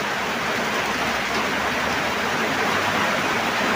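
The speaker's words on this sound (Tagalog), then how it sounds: "Malakas na yung ulan" Heavy rain pours down steadily in a rural province in Bohol, a dense, even hiss that stays loud and unbroken throughout.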